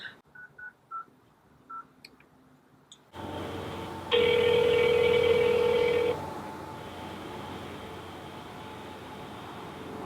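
A telephone call being placed to a cell phone number before voicemail picks up: a quick series of dialing tones, then a clear ringback tone of about two seconds, followed by a steady line hiss.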